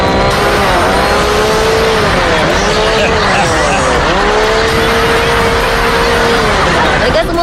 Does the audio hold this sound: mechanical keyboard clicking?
no